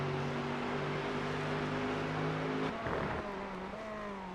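A Mercedes AMG GT3 race car engine roars at sustained high revs in the iRacing simulator at Laguna Seca, a loud, continuous drone that shifts pitch and dips briefly as the car changes gear or slows before climbing again.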